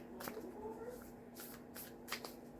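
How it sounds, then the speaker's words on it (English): A deck of oracle cards being shuffled during a card reading, with several quick riffling bursts and soft card slaps spread across a few seconds, close and fairly quiet over a faint steady hum. "Let's get a few more cards here."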